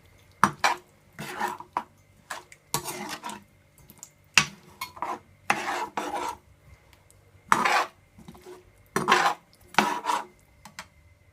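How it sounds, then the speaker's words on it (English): A spoon stirs salt and black pepper into a chicken mixture for pineapple baked chicken, making irregular scraping and clinking bursts against the bowl with brief pauses between strokes. "Just give it a stir."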